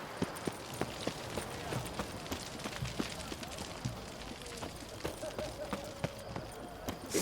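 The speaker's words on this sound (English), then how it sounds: "It's the horse." Horse hooves in a video game clip-clop in a steady trotting rhythm, sharp repeated knocks over a muffled background with faint voices.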